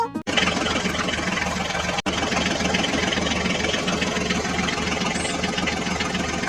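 Engine of a vehicle, apparently a Mahindra tractor, rumbling steadily and loud with a continuous low chugging drone, briefly interrupted at the start as if starting up, then running on without voices.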